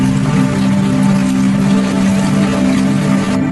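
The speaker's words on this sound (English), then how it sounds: "Rain falls into dining rooms and kitchens." Steady rain pours into the rotting dining rooms and kitchens of abandoned houses, a continuous dense patter with a low droning hum underneath, no voices.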